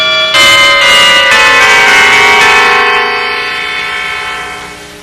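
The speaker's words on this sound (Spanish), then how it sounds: "Este es el campanófono, también llamado instrumento de campanas tubulares." A single tubular bell rings out loud and clear, its bright metallic tone struck once and then left to ring, fading slowly over several seconds.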